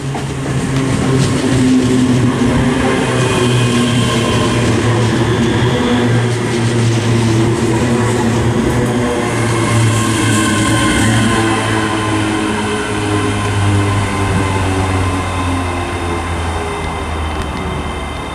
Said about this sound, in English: arriving now is a terminating ScotRail service from Glasgow Queen Street, and it is 385012